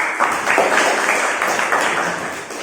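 A small group of students in a school group-counseling session claps in praise, a short burst of close, fairly loud applause lasting under three seconds.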